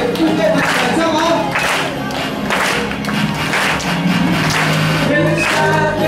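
Audience at a gospel concert clapping, a dense sustained crowd applause filling the space at steady loudness, with some voices mixed in under the clapping.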